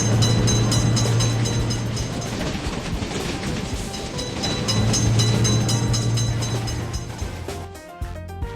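A train rolls past a road level crossing with a lifting gate for cars, a loud, continuous rumble with steady droning tones that holds for several seconds before easing off near the end.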